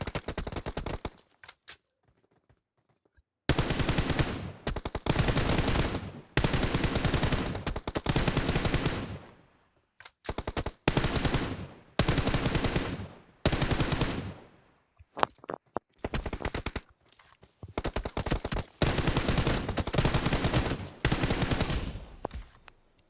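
Video game gunfire rattles out in long, loud automatic bursts, machine-gun volleys close to the ear separated by short silent gaps, repeating throughout.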